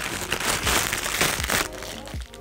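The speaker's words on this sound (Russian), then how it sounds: "У меня здесь есть еще вот такой вот маленький пакетик. Сейчас я открою и посмотрим, что здесь есть внутри." A small plastic packet being opened during a parcel unboxing, with several loud crinkling and crunching bursts of plastic close by, continuing for a couple of seconds with no voice.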